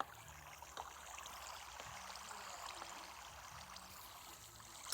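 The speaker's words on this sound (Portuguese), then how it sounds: "Não, aqui tem água." Steady low trickle of cave water in Minecraft Pocket Edition, a faint continuous flowing wash with no voices.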